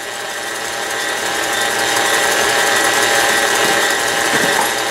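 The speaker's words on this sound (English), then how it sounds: "turn your mixer off when you have to scrape the sides" Electric stand mixer beating sunflower butter cookie dough, a steady, loud whirring drone that runs continuously without pause and with no voices.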